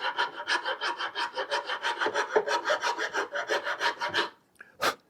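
Nicholson rasp filing the shiny finish off a wooden sewing machine table: rapid, regular rasping strokes up close, about twenty in a row, then a short pause and one last stroke.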